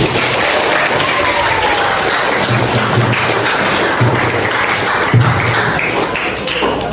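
Students in a classroom applaud together, a dense, steady wash of clapping that holds at an even loudness for several seconds without a break.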